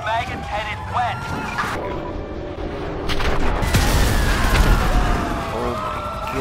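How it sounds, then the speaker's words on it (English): A van blows up across a street intersection in GTA 5 on PC, a loud burst of gunfire-like cracks and a heavy boom rising midway through, with sirens and radio chatter mixed in and voices talking over it. "Just blew that van to hell across the street intersection"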